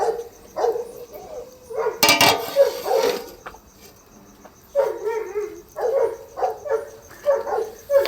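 A dog barks in short repeated bursts while being fed outdoors, some barks clustered and others spaced apart, with crickets chirping faintly in the background.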